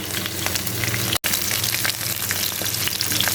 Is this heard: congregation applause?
no